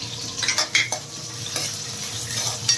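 Green chillies and cashews fry in hot oil in a pan, a steady close sizzle punctuated by several sharp metallic clinks and scrapes of a spoon stirring.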